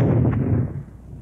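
A WWII infantry anti-tank weapon fires and its round explodes in one loud, heavy boom whose low rumble rolls off and fades over about a second.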